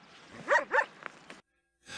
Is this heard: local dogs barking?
yes